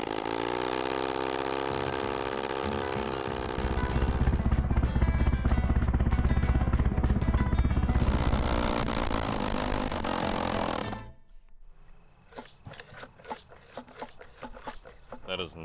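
Homemade two-cylinder two-stroke engine firing up and running outdoors, a loud, buzzy, rapid-firing drone that runs for about eleven seconds before cutting off, leaving quieter clatter and people talking.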